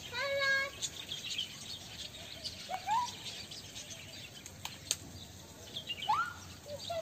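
Birds chirp and call at a farm bird sanctuary in the UAE, with scattered short tweets and rising whistles over a steady insect-like hiss, moderately distant and fairly quiet, with no talking.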